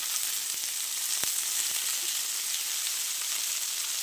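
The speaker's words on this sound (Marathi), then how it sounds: "इथे आपण लसण पण फ्राय करून घेऊया" Garlic and tomato pieces frying in a pan for a chicken masala, an even, moderately loud hiss of sizzling oil with a couple of faint taps.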